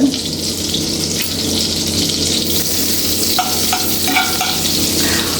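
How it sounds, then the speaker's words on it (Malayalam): Vegetables sauté in melted butter in a pan, giving a steady, close sizzle and crackle that lasts throughout with a few brief stirring scrapes. "ആദ്യം എല്ലാം ഒരുമിച്ച് തന്നെ ഇട്ടിട്ട് നമുക്കിതൊന്ന് സോട്ട് ചെയ്തെടുക്കാം"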